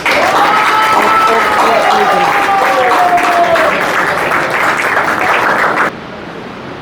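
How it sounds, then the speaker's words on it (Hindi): Audience applause at a recovery birthday celebration, a dense, steady wash of clapping from a crowd that runs loud for most of the clip, then drops suddenly to quieter clapping near the end, with some voices mixed in. "तालियां।"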